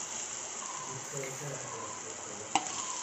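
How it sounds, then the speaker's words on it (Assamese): Chopped tomatoes fry in a pan, giving a soft steady sizzle with faint stirring scrapes and one brief sharp clink near the end. "এয়া বিলাহীখিনি ভালকৈ ভাজা হ'ব লাগিব"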